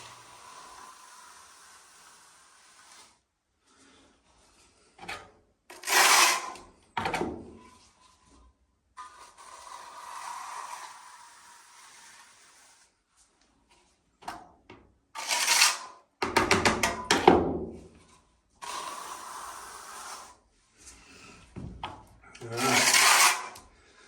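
Trowel smoothing tile adhesive to an even thickness for a cork wall tile, heard as repeated broad scraping sweeps that come and go in bursts, with quieter stretches of soft rasping between them.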